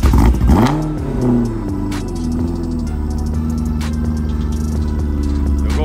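A supercharged BMW M3 cranks and fires up, its engine flaring to a loud rev before settling into a rough, burbling idle with supercharger whine, close by.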